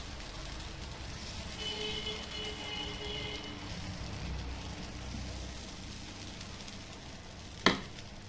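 Pesarattu batter sizzles on a hot pan greased with ghee, giving a steady, even hiss throughout, with one sharp click near the end.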